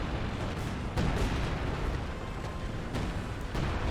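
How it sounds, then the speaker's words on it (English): Artillery shells rain down in a Company of Heroes 2 winter battle, a heavy continuous rumble punctuated by several dull booming impacts at irregular intervals, under distant battle noise. "Assault artillery is coming down on this position"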